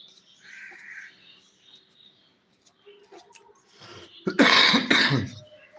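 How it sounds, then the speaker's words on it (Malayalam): A quiet room with faint small noises, then a close, loud cough of two harsh bursts near the end. "സോറി ഗസ്റ്റ് ചുമയൊക്കെ പിടിച്ചു"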